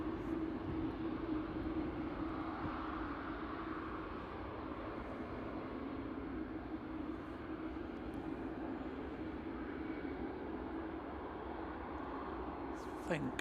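A British Airways airliner from London Heathrow at Manchester Airport produces a steady, distant jet engine rumble that holds throughout, with faint background voices.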